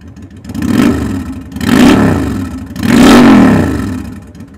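A 2007 Honda VT750 Shadow Spirit motorcycle fitted with a Cobra exhaust revs three times in a row. Each blip rises and falls as a deep, loud engine roar, with brief pauses between the pulls.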